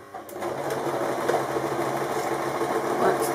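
A sewing machine runs a back tack on an origami candle mat, its motor humming in a continuous close buzz that starts up at once and holds steady, with a voice speaking over it.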